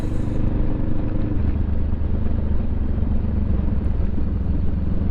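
A motorcycle engine rumbles steadily nearby, a loud continuous low drone with slight clatter, no talking.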